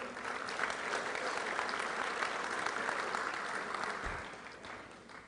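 An audience at a Rotary Club meeting applauds steadily, dense clapping from a room full of people that holds for several seconds before fading slightly, with faint voices underneath.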